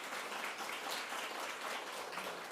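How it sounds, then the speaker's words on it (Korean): A church congregation at an Easter Sunday service applauds missionaries, with steady dense clapping that fills the room throughout and no voice on top. "박수 한번 하겠습니다"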